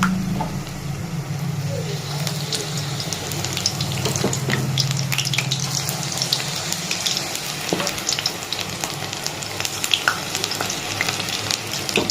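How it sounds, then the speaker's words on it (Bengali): Small prawns frying in hot oil, a steady crackling sizzle with scattered clicks and stirring sounds from pieces being added one by one, no voices. "এক এক করে চিংড়ি মাছগুলো আমি ভাজবো"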